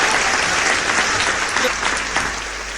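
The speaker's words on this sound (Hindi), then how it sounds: "तो एक बार जोरदार ताली तो बजा दो" Audience applause at a Hindi comedy poetry gathering (hasya kavi sammelan), a dense, steady wash of clapping from a crowd that holds at a fairly even level throughout, nearby and full.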